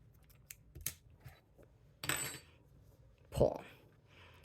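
A few quiet, sharp snips of scissors cutting yarn, with small handling clicks between them, close by in a quiet room, the last cut the loudest.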